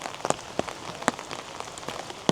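Rain falling outdoors in Scotland near the Falls of Clyde, a steady soft patter with scattered louder drops striking a surface close by, no voices.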